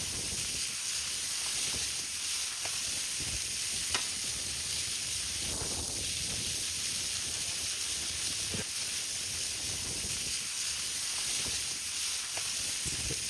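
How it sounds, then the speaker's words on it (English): Ground-beef burgers sizzle steadily on a hot grill, a constant loud hiss with occasional pops and crackles and no talking. "Listen to that sizzle"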